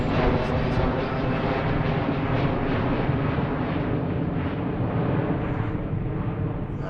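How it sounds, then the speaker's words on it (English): A UPS Boeing 757 jet departs Philadelphia, its steady loud engine roar filling the air and slowly fading toward the end. "There goes the UPS 757 out to Oakland."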